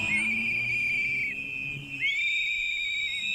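Shrill sustained whistles from a protest crowd, two long blasts separated by a brief gap, loud over a low murmur of voices.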